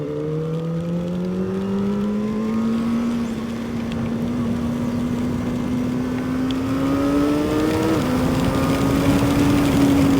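A motorcycle engine pulls through the gears in bad riding conditions, its steady whine climbing and shifting under heavy wind buffeting, loud and close from the rider's position.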